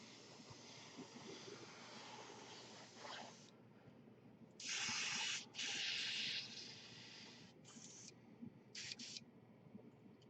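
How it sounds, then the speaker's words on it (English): An Iwata airbrush and a Grex TR5 airbrush spraying in bursts, a soft airy hiss that switches on and off, with two longer loud blasts in the middle followed by shorter puffs. "It's a finer airbrush."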